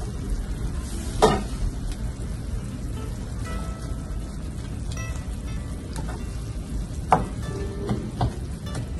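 Half a cup of onions cooking in a pan with meat for beef pies, a constant close sizzle with a couple of sharp utensil clatters against the pan.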